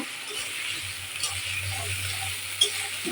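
Potatoes are gently stirred and fried in oil in a pan, producing a soft, steady sizzle with light scrapes and a small tap of the spoon, quiet and even throughout, without any talking.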